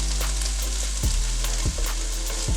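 Vegetables sautéing in a very large skillet for a tofu scramble, a continuous loud sizzle with a low steady hum beneath and a few sharp scraping stirs.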